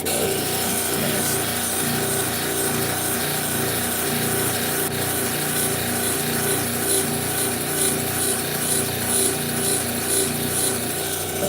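A 3000-grit polishing wheel works a handmade sculpted piece, producing a dense, continuous whirring and rubbing drone with slight fluctuations as the piece is pressed against the spinning wheel, close and fairly loud.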